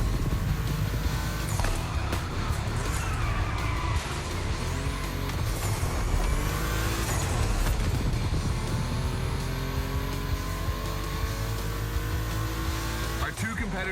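Racing car engines roar and whine with tire squeals and shifting revs in the video game The Crew Motorfest, Volkswagen cars in a gymkhana event, loud and continuous, with a voice speaking over the action at times.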